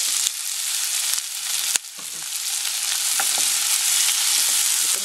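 Tomato sautéing in a hot pan for sardines with spinach, with a loud, steady sizzle and frying hiss throughout and a few brief stirring clicks, close and with no talk.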